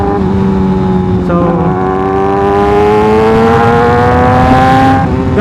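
A Kawasaki ZX6R motorcycle engine runs loud and close, its revs holding a high, steady whine that climbs gradually, with no talking.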